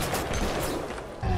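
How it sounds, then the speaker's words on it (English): Rapid, continuous gunfire in Bioshock as a stream of bullets strikes the player, a dense loud barrage lasting under two seconds. "That's so many bullets hitting me."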